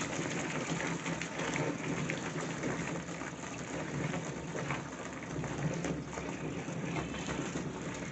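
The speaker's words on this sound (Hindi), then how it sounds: "फिर इसको शेक करते हैं और पानी डाल देते हैं।" Foaming liquid being shaken and water poured in, a steady fizzing, splashing wash that stays moderately faint and even throughout, with no voices.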